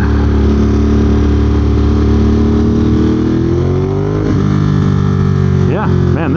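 Ducati Monster V-twin motorcycle with an aftermarket Termignoni exhaust, a loud close throbbing idle that rises and dips with blips of the throttle, continuous throughout.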